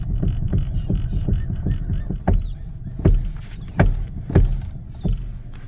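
Steering on a running 2011 Hyundai Elantra with a faulty electric power steering system, giving a series of sharp clunks and clicks at irregular intervals over a steady low engine hum, close to the microphone.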